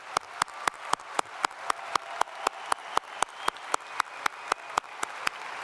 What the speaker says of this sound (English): Would you give them a great round of applause?